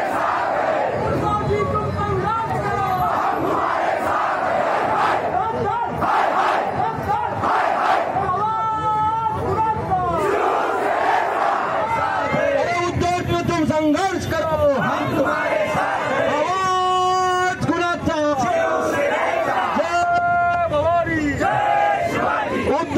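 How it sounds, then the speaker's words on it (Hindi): A large crowd of Shiv Sena supporters protesting at Kranti Chowk in Aurangabad, with loud, continuous massed shouting and chanting that rises and swells throughout, dense and close. "इस घटना के विरोध में आज क्रांति चौक पर शिवसैनिकों की भारी भीड़ जमा हो गई है"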